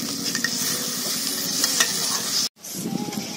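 Water poured into a pan of frying pumpkin-flower kofta curry with boiled potatoes, a loud steady sizzle and stirring, broken by a brief dropout near the end before the bubbling frying resumes, with no talk.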